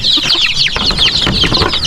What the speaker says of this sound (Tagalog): ito naman yung ibang sisyo ng manok malalaki na rin